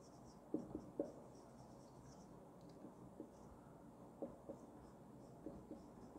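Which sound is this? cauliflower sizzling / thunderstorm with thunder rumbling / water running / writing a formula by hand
writing a formula by hand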